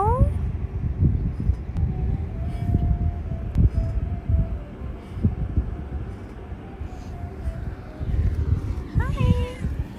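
Cats in Cappadocia meowing near and far over a steady outdoor rumble, with a few drawn-out cries and a louder meow toward the end.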